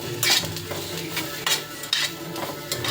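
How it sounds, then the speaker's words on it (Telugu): Okra (bhindi) fries dry in a pan with no oil while a utensil stirs and scrapes it, giving repeated close, sharp scraping strokes over a steady low sizzle, with no talking. "బెండకాయ ఫ్రై చేస్తున్నాను."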